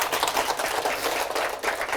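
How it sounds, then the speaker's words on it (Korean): A studio audience applauds on a Korean talk show, a dense, continuous patter of many hands clapping at full volume from start to finish, with no voices on top. "일단은 이 시대의 청춘에게 박수 한번 부탁드리겠습니다"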